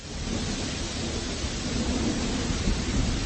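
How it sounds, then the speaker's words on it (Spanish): A thunderstorm sound effect in a narrated spooky story: a continuous low rumble blended with a rain-like hiss, steady and full throughout, with no voice over it. "el cielo amenazaba con una terrible tormenta"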